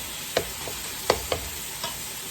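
Seasoned meat for spaghetti browning in a pan gives a quiet, steady sizzle with a few soft scrapes and taps from stirring. No one speaks.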